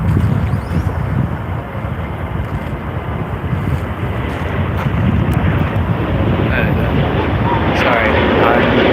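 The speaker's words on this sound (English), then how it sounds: "right now we have a Qantas 737-800 rolling probably down to Melbourne" Qantas Boeing 737-800 jet rolling down the runway on takeoff at night, a steady loud broadband engine roar with wind buffeting that builds slightly toward the end.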